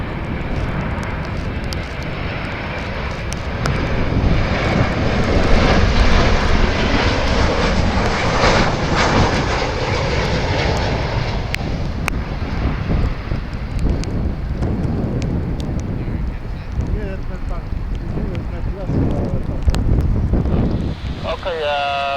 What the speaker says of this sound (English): 737 on short final, clear land runway 6 left